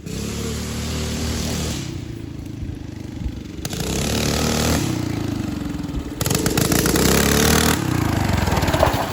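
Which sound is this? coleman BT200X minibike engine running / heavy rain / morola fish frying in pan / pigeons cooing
coleman BT200X minibike engine running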